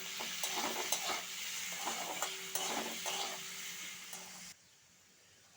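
Potato and carrot pieces fried with salt and turmeric in a pan, steady sizzling with repeated stirring scrapes of a utensil against the pan, then the frying quietens abruptly near the end.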